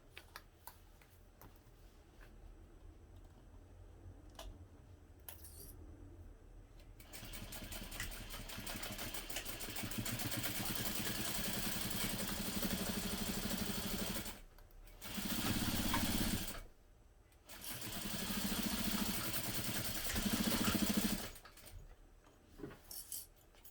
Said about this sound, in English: You will again sew this together using a 1/2 inch seam allowance.